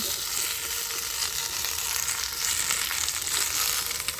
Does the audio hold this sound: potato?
yes